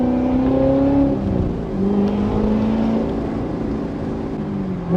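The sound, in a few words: Corvette C7 Z06 supercharger whine with stock intake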